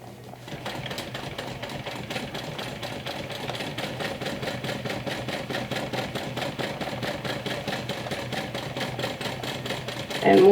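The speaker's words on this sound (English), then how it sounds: "I'm going to go ahead and stitch all around." A sewing machine stitches steadily around a combination handbag-backpack, its needle chattering in a fast even rhythm at close range, running continuously and slightly picking up at the end.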